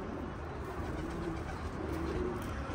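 A rooftop flock of about sixteen to eighteen pigeons cooing softly and continuously, low murmuring calls layered over faint background noise.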